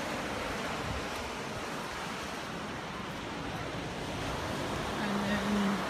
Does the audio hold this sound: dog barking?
no